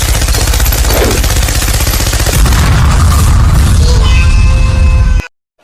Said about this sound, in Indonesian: Kami akan menembak kalian.